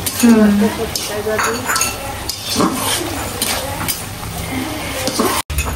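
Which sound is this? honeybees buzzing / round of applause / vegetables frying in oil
vegetables frying in oil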